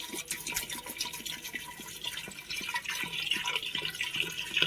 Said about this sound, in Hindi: तो ये हमने पानी डाला है।